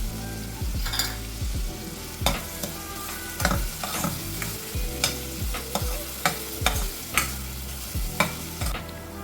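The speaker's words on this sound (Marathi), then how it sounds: "5 मिनटं हा कांदा आपल्याला तेलावर परतून घ्यायचा आहे." Chopped onion and green chili sizzle in hot oil over a medium flame for dhaba-style lasooni palak paneer, with a steady frying hiss broken by a regular rhythm of spoon knocks and scrapes against the pan, close and without talk.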